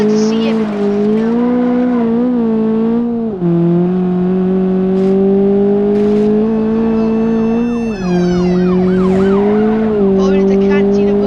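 Car engine in the BeamNG driving game, held at full throttle: a loud, sustained engine drone that sags and recovers in pitch as the car moves over the terrain, with brief vocal sounds over it.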